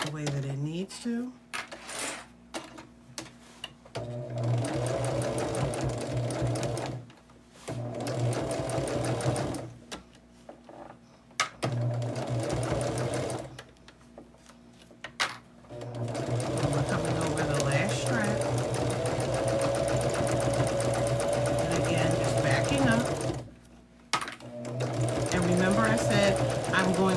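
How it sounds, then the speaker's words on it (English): A sewing machine back stitches a quilted bag in short whirring bursts separated by brief pauses, fairly close and moderately loud. "I'm just back stitching to make sure that everything lines up the way that it needs to."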